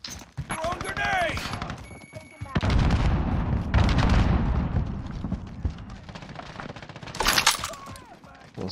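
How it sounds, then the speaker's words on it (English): A thrown grenade detonates in Call of Duty Modern Warfare with a heavy, booming blast, followed by rumbling and scattered gunfire while radio chatter and voices talk around it. "Throwing grenade!"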